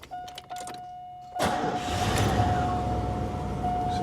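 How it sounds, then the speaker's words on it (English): A 1990 Cadillac Brougham with a 305 V8 cranks briefly, then catches and fires up, settling into a steady, close idle, with a warning chime sounding throughout. "Let's start her up."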